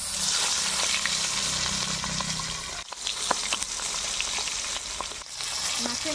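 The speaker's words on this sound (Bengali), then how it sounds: "মাছের মাথাটা ভাজা হয়ে গেছে, এখন আমি নামিয়ে নিচ্ছি" Rohu fish head frying in hot oil in a kadai, a dense close sizzle broken by spatters, pops and a couple of brief lulls where it is moved or turned.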